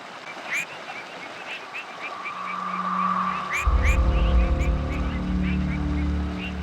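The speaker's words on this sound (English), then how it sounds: "the stream bed becomes alive with the love songs of tree frogs." Tree frogs chorus along a stream bed at dusk in Australia, a run of sharp repeated chirping calls at moderate distance, joined midway by a low steady rumbling drone underneath.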